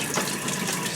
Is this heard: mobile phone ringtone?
no